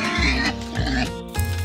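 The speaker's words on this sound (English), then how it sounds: "the pigs are enjoying their slump." Farm pigs grunt and oink in a quick run of short, close calls over a brief stretch, with a voice-like tone mixed in.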